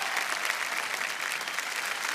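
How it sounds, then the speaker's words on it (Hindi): Studio audience on a TV quiz show breaks into brief, dense, steady clapping, loud and continuous with no voices on top. "जोरदार तालियां, वेल प्लेड"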